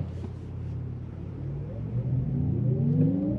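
A Porsche Taycan's electric sport sound plays its motor tone through the cabin speakers: a smooth, musical synthetic whir that climbs steadily in pitch and grows louder as the car accelerates, over a low road rumble.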